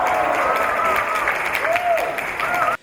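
Audience applause welcomes a university vice president to the stage at a Korean speaking contest for international students, a steady crowd clapping under speech until it cuts off abruptly.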